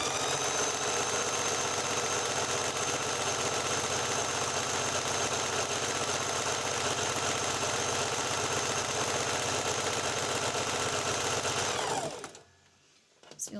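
A loud sewing machine runs steadily while rope coasters are being sewn, a close, constant mechanical whir and hum that stops abruptly near the end, leaving near silence.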